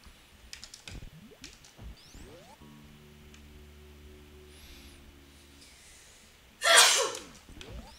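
A sneeze bursts out loudly near the end, a sharp forceful explosion over quiet background breathing and faint clicks during a Super Metroid door randomizer marathon stream.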